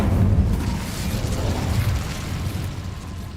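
An Incendio fire spell cast in Hogwarts Legacy lands as a steady, broad whooshing roar of flame with a deep rumble, loud at the start and easing slightly over a few seconds.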